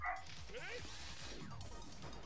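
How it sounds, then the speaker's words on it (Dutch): A dog barks in the Digimon Story Cyber Sleuth video game, a few quick yapping barks over busy game sound effects and music, with people talking alongside. "Ik hoop dat niks betekent, dat geblaf."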